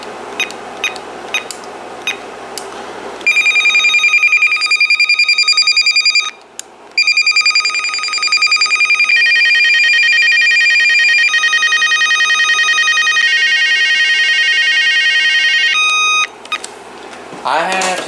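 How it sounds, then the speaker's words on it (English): A Vtech IA5854 cordless phone cycles through its ringtones, playing loud electronic melodic rings and beeping tones in several sustained stretches separated by short pauses, with a few clicks from button presses between them. "let's go and check out the ringtones"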